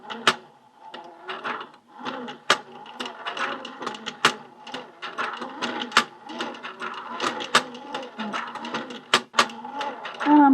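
A 1960s Singer Junior Miss toy sewing machine winding a bobbin, giving an uneven run of clicks, clacks and rattling mechanical taps with sharp transients, close and fairly loud.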